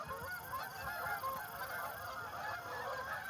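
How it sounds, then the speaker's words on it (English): Canada geese honking steadily in a large V formation overhead, many overlapping calls forming a continuous outdoor chorus with no talk. "Good old Canada geese. See, in their V formation"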